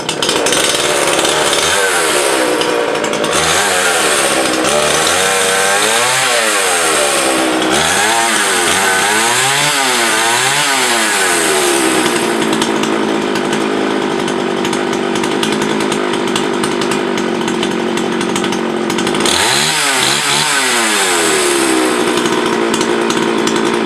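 A Jobu LP5 BV gas chainsaw runs loud and close for the whole stretch. Its engine revs rise and fall in repeated waves and settle into a steady high-pitched drone between them, with no talking.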